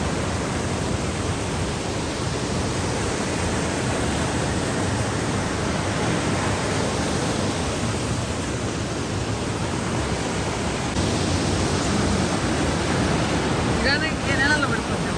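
Water at Bushkill Falls rushes in a dense, constant roar that fills the whole stretch and holds steady throughout, like a distant cascade heard outdoors, with wind buffeting the microphone.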